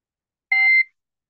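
A single short electronic timer beep marks the start of a timed exam question, a clear tonal chirp lasting about a third of a second, sounding alone against silence.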